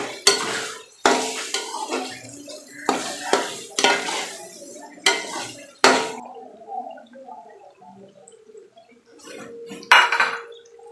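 A spoon mixes chicken with red chilli, turmeric and salt in a pot for village-style bhindi chicken. Sharp metallic scraping clanks come close and roughly once a second, then fade to softer stirring before a final clatter.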